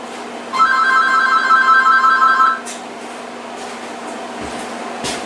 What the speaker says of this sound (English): checking out the second handset to the third handset's intercom, making sure that it works